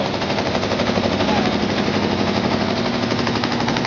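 A repaired generator engine runs steadily after being started, a loud, continuous, rapid mechanical chatter that holds an even level throughout with no pauses.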